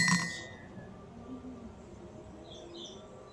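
A marble dropped into a drinking glass makes a single bright clink right at the start, then fades into quiet room tone.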